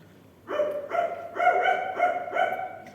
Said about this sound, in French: Des aboiements. C'est Turc, le chien de la maison.